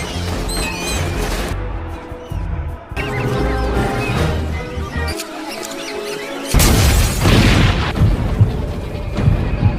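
Loud cinematic explosions and crashing booms in quick succession, mixed with dramatic music and rumbling impacts.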